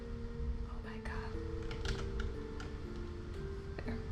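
Someone types in quick, uneven bursts on a computer keyboard while painting Twitch emotes. The clicks are close and soft, with faint low murmuring in the background.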